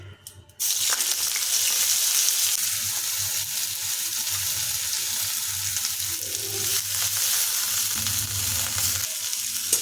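Squeezed, boiled banana flower fries in oil in a pan, giving a steady sizzle that starts abruptly after a brief quiet moment and then continues close and even, with light stirring noises throughout.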